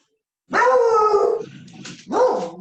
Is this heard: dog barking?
yes